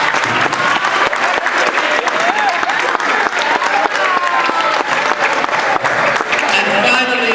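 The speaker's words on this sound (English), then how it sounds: "So clap it up for Alohio." Loud, dense crowd applause fills a senior night ceremony from 2014, steady throughout with scattered cheers and voices mixed into the clapping.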